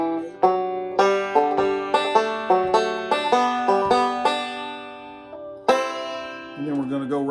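Bluegrass banjo picking single plucked notes with a fretted note on the third string, the bright ringing tones alone and close in a steady picking rhythm, briefly pausing before a final strum.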